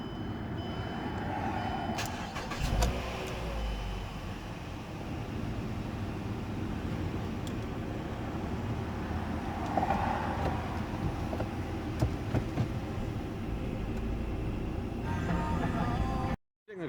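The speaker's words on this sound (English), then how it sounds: "The engine will start pumping transmission fluid out." Mazda 5 of 2012 or later started in park and left running, a steady engine drone with a brief bump near the start and a rough hum that holds evenly until it cuts off at the end.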